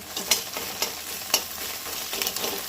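Egg is broken into small bits in hot oil in a wok, a steady sizzle punctuated by sharp scraping strokes of a spatula at irregular intervals, close and clear with no voices.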